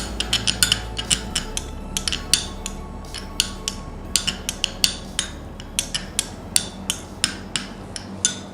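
A spoon clacks rhythmically against a bowl, rapid repeated taps and scrapes as a carrot skin mixture with glycerin is mixed, close and fairly loud.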